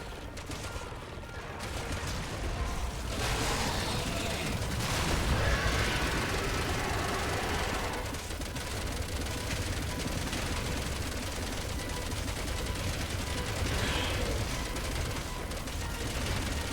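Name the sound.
helicopter gunfire in video game Resident Evil 6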